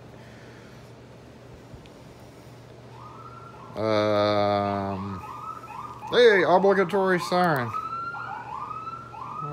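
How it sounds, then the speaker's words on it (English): A brief blast of a siren is followed by a warbling, rising-and-falling siren wail; a voice interjects faintly between them. "obligatory siren"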